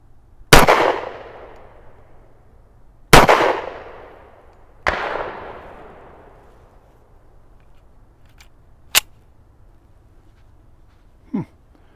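A WW2-era Colt M1911A1 .45 pistol firing hotter ammunition: three loud, sharp close shots spaced a couple of seconds apart, each ringing out with a long decaying echo, followed by quieter metallic clicks.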